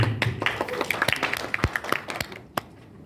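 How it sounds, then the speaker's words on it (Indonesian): Sparse, fairly quiet hand claps from a small group of participants at a meeting, uneven taps scattered over a few seconds and tapering off. "Oke, tepuk tangan yang meriah dulu."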